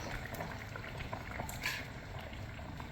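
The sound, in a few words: mackerel fish curry with coconut boiling in clay pot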